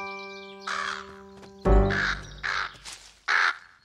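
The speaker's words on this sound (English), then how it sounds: "It's our friend, Mr. Crow." A cartoon crow gives a series of loud, close caws, several harsh calls spaced apart, set against musical tones and a low thump.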